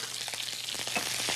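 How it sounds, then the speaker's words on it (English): Raw celery sautéing in a hot pan, a steady close sizzle with faint stirring ticks. "This is a quick saute. Just a minute. Just wanna kinda take that raw edge off of the celery."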